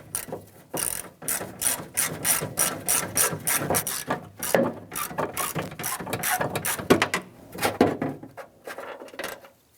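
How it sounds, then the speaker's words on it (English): Rapid, close ratchet clicking in repeated bursts as a T30 Torx bolt is loosened and removed from the rear door of a 2002-2008 Dodge Ram 1500, with brief pauses between strokes. "On the side here, we need to go ahead and remove this Torx bolt right here."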